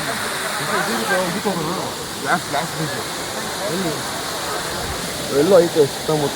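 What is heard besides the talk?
Abbey Falls waterfall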